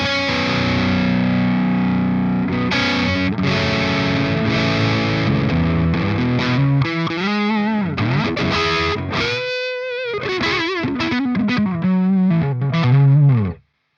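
Electric guitar driven through a Shoeless Drive overdrive plugin on its smoother setting, giving a bluesy, saturated tone; sustained distorted chords give way to bent single-note lead lines, loud and continuous throughout.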